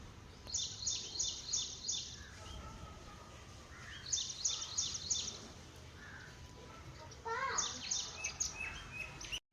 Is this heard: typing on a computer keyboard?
no